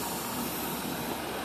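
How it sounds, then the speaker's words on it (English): Steam is turned on to a mill steam engine fed by a boiler, giving a loud, steady broadband hiss that stays constant throughout with no talking. "So I'll turn some steam on here."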